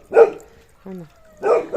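A dog barks a few times close by outdoors at dusk, sharp yaps spaced apart, with a voice in between.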